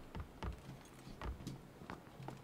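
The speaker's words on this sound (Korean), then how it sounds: "발소리." Footsteps in the PUBG Battlegrounds video game: a short run of soft, evenly spaced thuds, about five steps over a couple of seconds, fairly faint against a low background.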